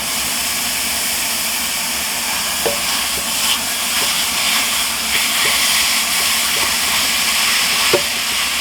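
Ground turkey sizzles in a hot pan, a steady broadband hiss with occasional soft pops and crackles throughout, close and fairly loud with no voices.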